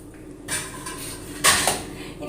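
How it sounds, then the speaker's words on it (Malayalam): Chopped ash gourd is scraped and tipped into a bowl, giving a few close clatters and scrapes against the dish with a sharper knock partway through. "ഇനി നമ്മളത് ഒരു പാത്രത്തിലേക്ക് മാറ്റാം"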